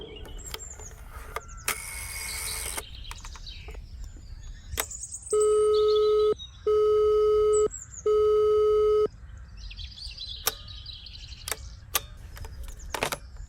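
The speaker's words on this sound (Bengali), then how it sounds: "বলে ঘরে এসে ডায়াল ঘুরিয়ে ফোন করলাম।" A rotary telephone line tone follows dialing: three long, steady tone bursts separated by short gaps, framed by scattered clicks and handset knocks in a quiet room.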